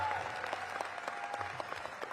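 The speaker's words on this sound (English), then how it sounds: "Give them another big round of applause." An audience at a civic announcement event in Washington, DC gives a steady round of applause, somewhat distant and soft, with individual claps standing out over a low hum.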